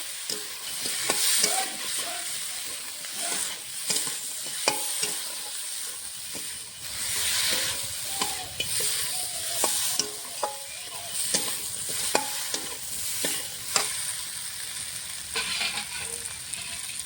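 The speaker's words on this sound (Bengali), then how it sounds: "মশলার সঙ্গে এখন মাছটা হালকা করে কষিয়ে নেব।" Tilapia fish pieces fry lightly with spices in a pan, a steady hiss of sizzling oil broken by repeated sharp scrapes and clicks of stirring, close and alone without talk.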